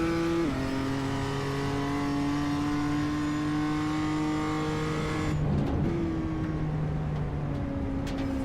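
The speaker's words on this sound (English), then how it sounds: "with some 30 plus BMWs tearing around there" More than thirty BMW race cars lap Brands Hatch during warm-up in an iRacing esports series, engines droning loud and steady with shifting pitch as cars pass, a downshift and throttle change partway through, with no talk.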